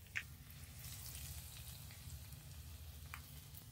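Quiet, steady sizzle of a tempering of curry leaves and cumin in hot oil, a soft continuous crackle with a couple of faint clinks, added to avial, a mixed-vegetable dish.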